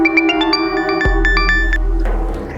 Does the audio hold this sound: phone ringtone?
yes